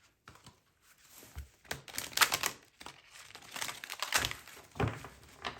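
Papery riffling and soft slapping of cards being shuffled, irregular bursts of crisp rustles close by, no talking.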